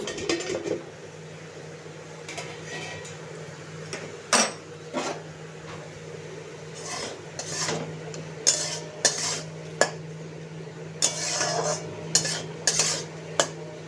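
A metal pot lid clanks as it is lifted off, followed by a spoon scraping and knocking against the pot while vegetables for moong dal are stirred, several sharp clatters spread irregularly over a quiet background hum.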